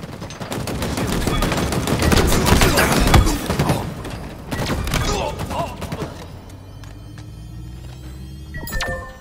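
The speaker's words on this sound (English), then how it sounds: "Machine guns suit you, son" Rapid machine gun fire in the video game Halo Infinite, loud dense bursts of shots with thudding impacts over several seconds, then quieter sparse shots and electronic tones as the fighting fades.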